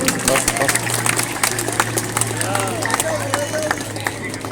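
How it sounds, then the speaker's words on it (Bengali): A crowd of parents and children clapping at a nursery and kindergarten results prize ceremony, steady, crisp applause with voices and babble mixed in, and a low hum running underneath. "রাজ হাসানের জন্য জোরে করতালি।"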